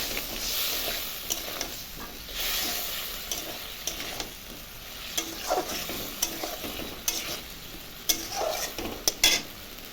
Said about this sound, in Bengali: এখন মশলাটা ভালো করে আমি কষতে দেবো